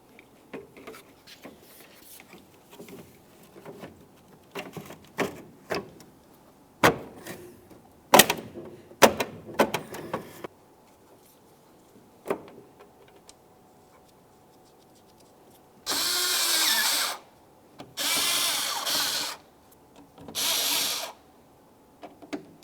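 A power tool drives the top mounting bolts of a 2011-2018 Volkswagen Jetta front bumper cover, with three loud, sustained bursts near the end after a stretch of scattered clicks, taps and handling noise.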